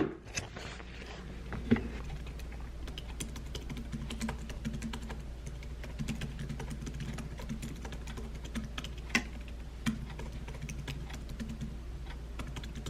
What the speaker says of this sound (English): So I'm just gonna sit down at my desk and get typing because I want to get this finished.